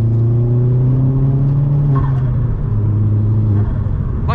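A Vauxhall Astra VXR engine pulls hard in third gear, a loud, steady droning note that climbs, dips briefly at a shift point, then carries on strongly from inside the cabin.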